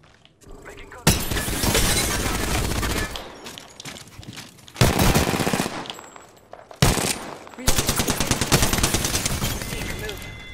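Heavy automatic gunfire in the video game Apex Legends comes in several long, loud bursts split by brief pauses, with sharp cracks and shattering impacts up close.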